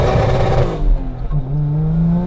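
A turbocharged 1JZ-swapped Lexus IS300 with about 500 hp revs hard on launch control, then drops in pitch as the clutch is dumped and the engine bogs, loud and close.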